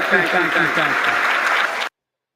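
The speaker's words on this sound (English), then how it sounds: "Clap for Justice Breyer. I will clap for Justice Breyer." Audience applause fills the chamber at the State of the Union address, a dense wash of clapping with voices mixed in that cuts off abruptly after about two seconds.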